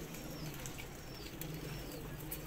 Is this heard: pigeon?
yes